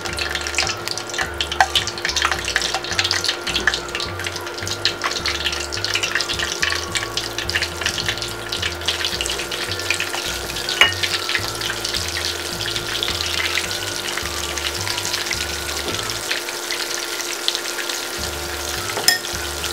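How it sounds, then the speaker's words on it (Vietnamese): Balut duck eggs coated in crispy batter fry in hot oil over medium heat, giving a steady loud sizzle and crackle throughout, with a rhythmic low thumping beneath and no talk. "chiên giòn bên ngoài, mình cho vào chiên."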